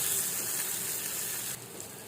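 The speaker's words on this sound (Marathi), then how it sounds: "आता हे मिक्स करायचं, हलवायचं." Steady hiss and soft sizzle while baingan bharit, a mashed eggplant dish with coriander, is stirred and mixed in a pan, an even broadband wash with a slight drop toward the end.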